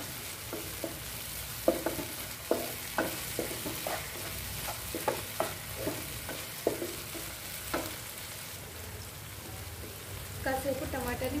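Half a teaspoon of ginger-garlic paste sizzles in hot oil for tomato rice, a steady frying hiss punctuated by regular light taps and scrapes of a stirring spoon, close and moderately quiet.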